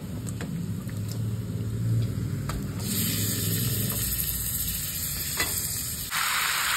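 Chicken pieces fry in a pan of spiced masala cooked down with cumin, coriander and turmeric powder, giving a steady close sizzle with scraping stirs and clanks of a spatula throughout, and the frying grows brighter and louder partway through.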